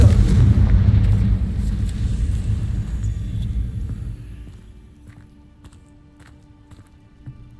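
Confringo blasting spell in Hogwarts Legacy, a loud booming explosion at the start with a deep rumble that slowly fades, followed by quieter scattered clicks and footsteps.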